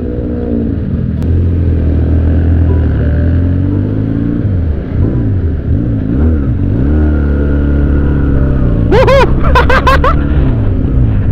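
Benelli Patagonian Eagle 250 with a 250 cc carbureted engine and 360-degree crankshaft, idling with a loud, steady rumble, rising and falling through several revs, then a few sharp blips near the end.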